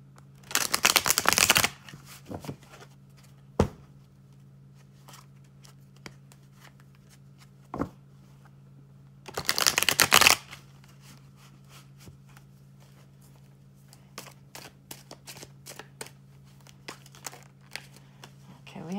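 Tarot cards shuffled in two loud riffling bursts near the start and middle, with softer card taps and handling sounds between them over a steady low hum.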